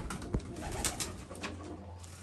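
A single pigeon coos steadily up close, a continuous low throaty call with a few sharper notes, with no talking.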